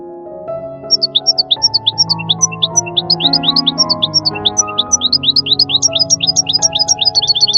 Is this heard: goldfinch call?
yes